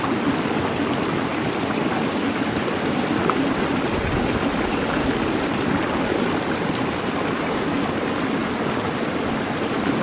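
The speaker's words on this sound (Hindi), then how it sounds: "पानी की आवाज़ आप सुन रहे होंगे" Water of the Bruti waterfall stream rushes continuously in a steady, dense roar, close and loud throughout with no voices.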